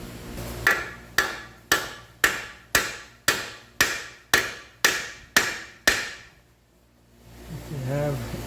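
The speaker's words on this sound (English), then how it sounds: "We're probably going to lightly hammer on here to get this out" A hammer strikes the lower control arm nut of a 2015 Jeep Patriot 2.4: ten evenly spaced, sharp metallic blows close up, followed by a short quiet gap and a brief voice at the end.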